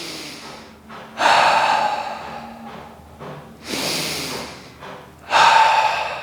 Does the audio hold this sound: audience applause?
no